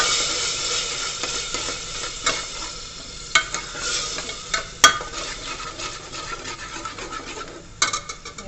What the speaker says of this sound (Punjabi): ਹੁਣ ਆਪਾਂ ਪਿਆਜ਼ ਪਾਉਂਦੇ ਆ ਪਿਆਜ਼ ਨੂੰ ਚੰਗੀ ਤਰ੍ਹਾਂ ਭੁੰਨ ਲਾਂਗੇ